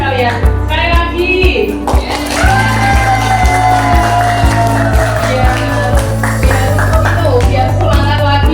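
Students in an Indonesian classroom clap again in a loud burst, with cheering and shouting over a steady low hum and occasional taps.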